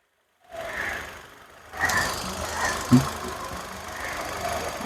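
Petrol engine of a 2017 Hyundai Grand i10 Asta Optional with 54k km, idling with the bonnet open, a low steady hum after a short silence, moderately loud with a small bump of noise partway through.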